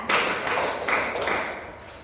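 A class of schoolchildren claps along in a counted clapping game, a few sharp group claps ringing out over a couple of seconds in a classroom.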